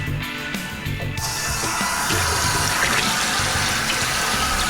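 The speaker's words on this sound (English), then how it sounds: "I'm gonna fill that up with some cold water." Cold water pours from a tap into a kitchen sink, a loud, close, steady rushing splash that thickens after a second and carries on unbroken, with no talking.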